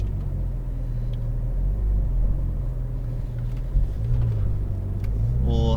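A Porsche 911 GT3 rolls forward out of the pit lane at a track, its engine a steady low idling rumble close by, with faint mechanical clicks and a brief rising note near the end.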